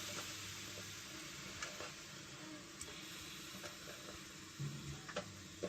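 Cuttlefish slices fry in olive oil, a faint, steady sizzle and crackle with occasional small pops and bursts of spatter.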